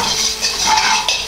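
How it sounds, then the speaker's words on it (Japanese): A metal ladle scrapes and stirs fried rice around a Chinese wok while the pan is pulled and pushed back. Close, continuous rasping clatter with light metallic clinks and no voices. "お玉を鍋の中央で回し鍋を引いて戻すを繰り返すだけです"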